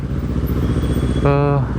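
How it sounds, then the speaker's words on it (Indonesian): A motorcycle crosses the road nearby, and a horn blares briefly near the end, all over the steady drone of a CBR250RR engine being ridden. "Ada motor nyebrang"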